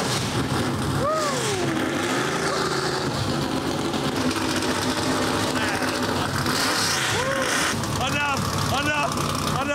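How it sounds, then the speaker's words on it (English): A small 289 cubic inch car engine revs repeatedly, its pitch sweeping up and falling back in several loud bursts over a steady idle rumble, with people talking throughout. "Keep in mind, this is just a little engine, you know. It's only 289 cubic inches, so."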